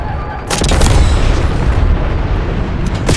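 Airstrike explosions in Call of Duty Black Ops 6: loud, heavy booms roll in after a brief lull, with a sustained rumbling blast and crackling debris, a final sharp burst at the end.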